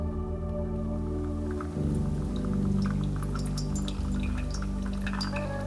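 Near-boiling water at about 94 degrees poured in slow circles over 60 grams of light roast coffee grounds, a steady soft trickle with scattered drips over a low steady hum, close and with no talking.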